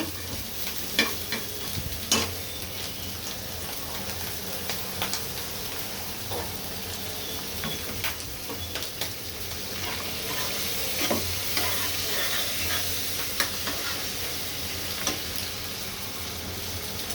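Shrimp rubbed with turmeric and salt sizzling in hot oil in a pan, a steady close crackling fry with scattered pops and spatters for the whole stretch, no voices.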